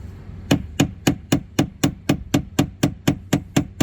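Steady metallic hammer blows on a Galley Maid toilet pump aboard a 1981 70-foot Hatteras yacht strike about four times per second, evenly spaced and close, with no talking.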